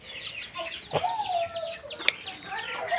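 A chicken clucks and squawks close by, with a drawn-out call and a few sharp short notes, over light background noise.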